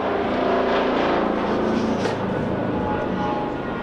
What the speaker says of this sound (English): Something noisy is- just went over. It sounded like a helicopter.